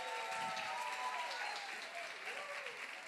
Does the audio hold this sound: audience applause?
yes